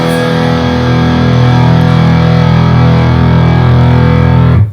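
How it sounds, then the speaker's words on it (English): Homemade electric guitar played through an amp with heavy distortion, a loud, sustained, buzzing chordal drone that rings steadily for several seconds before cutting off abruptly, with no talking. "I'll play a little bit with some distortion"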